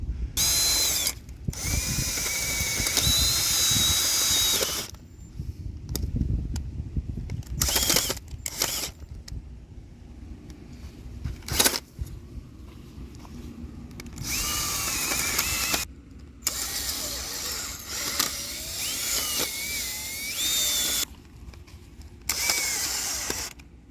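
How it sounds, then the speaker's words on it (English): A small powered garden auger drills planting holes in soil for sunflowers and corn, its loud motor whining in several long runs broken by short pauses and sharp mechanical clatter. "I'm going to take this guy, this little auger guy here, and I'm going to go ahead and do a couple rows here"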